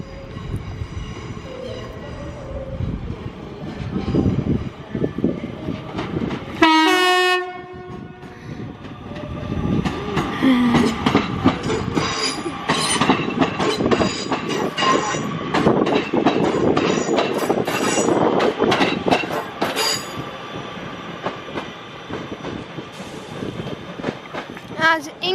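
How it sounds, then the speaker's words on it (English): A Class 323 electric multiple unit train arrives at a platform at Crewe station, rumbling and clattering over the rails with a brief horn-like tonal burst early on, then continuing rolling noise and brake squeals as it draws in, with faint talk. "And in comes class 323, with service from Manchester Piccadilly to Chester."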